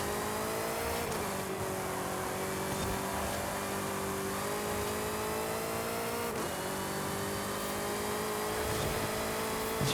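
Race cars in a sprint race in the video game Forza Horizon, engines droning loud and continuous, their pitch climbing through each gear and dropping sharply at two shifts, close and steady throughout.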